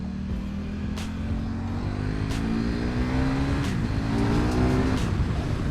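A KTM RC8 big V-twin sport motorcycle drones steadily through its exhaust, the engine pitch rising gradually as it accelerates with a gear change partway, loud and continuous with no talking.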